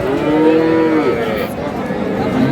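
A bull calf moos loudly and close at a busy cattle market at Ambari haat in Dinajpur, one long drawn-out call with a second short low call near the end, over faint crowd murmur.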